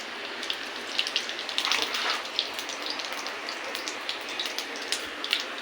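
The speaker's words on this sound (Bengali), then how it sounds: "তেল গরম হয়ে গেছে দিয়ে দেবো জিরে ফোড়ন" Cumin seeds sizzle and crackle in hot oil in a pan, the first step of a small lote fish curry. It is a steady, close hiss with scattered sharp pops and no voices.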